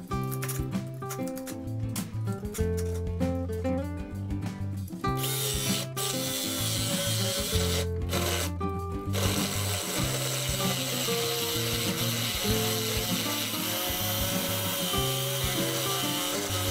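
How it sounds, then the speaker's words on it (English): Hand carving clamped wood for a sofa armrest table, with rapid scraping and ratcheting strokes close up, bursts broken by short pauses, then a continuous grinding texture. "I clamped down my wood, and let's begin to carve it down."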